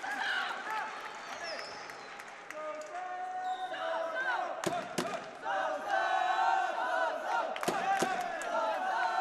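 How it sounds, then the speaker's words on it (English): At an amateur boxing semifinal in the 60 kg light division, a large crowd cheers and shouts in support of a fighter, with punches landing on gloves and a commentator talking over the sustained roar. "Support you can hear is for Sofiane OUMIHA. Got a lot of backing in the crowd behind me"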